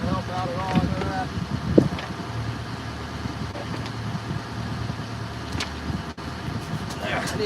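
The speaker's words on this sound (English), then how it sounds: "Dang wind ain't trying to help out at all." Wind gusting across an open boat during halibut fishing, a steady broadband rush of wind noise buffeting the microphone, with people talking over it.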